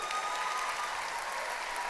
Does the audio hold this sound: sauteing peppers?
no